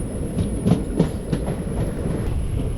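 A passenger train nears Palani railway station, its interior filled with a steady rumbling roll and faint rhythmic wheel clacks, heard up close from on board with a constant high whine above.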